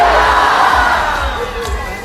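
Birthday party crowd shouting a loud "booyah" together and cheering, a dense burst of many voices that stays loud for the whole moment and eases slightly at the end.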